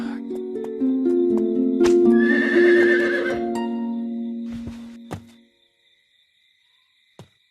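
A cartoon horse in a Snow White tale is reined to a halt, giving a loud, shrill whinny that rises and fades, with a few clip-clop hoof knocks and a final thud as it settles.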